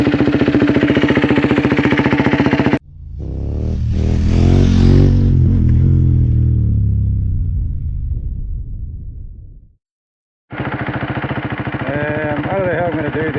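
A KTM Duke 390 motorcycle accelerates, its engine rumble swelling loud and then fading away over several seconds, with talking before and after the ride.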